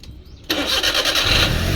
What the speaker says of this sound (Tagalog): patayin natin ang makina, ibalik natin paandarin. Engine start.